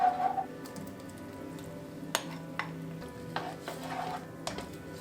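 Garlic, cream and Parmesan are stirred briskly in a hot pan, giving a soft steady sizzle with a few sharp utensil scrapes and taps against the pan, close and moderately quiet.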